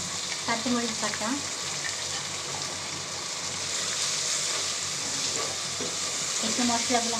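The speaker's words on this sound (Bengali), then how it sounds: "আদা রসুন কাঁচামরিচ বাটা," Ginger, garlic and green chili paste frying in a pan with whole spices, a continuous sizzle with occasional stirring scrapes and a faint voice in the background.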